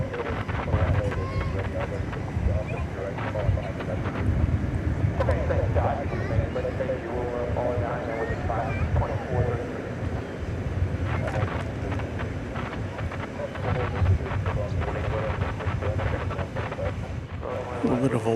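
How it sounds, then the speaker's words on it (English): Gusting wind buffets the microphone at DFW airport, a steady rumbling roar with irregular surges throughout, while a voice talks faintly underneath. "The winds are gusting here."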